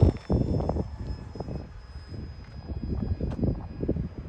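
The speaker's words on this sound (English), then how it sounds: "Definitely is one of those faster turn and burn style airplanes." A UMX F-86 remote-control model jet with a 4S battery flies fast at full throttle, its rushing whine rising and fading in gusty outdoor wind, no talking.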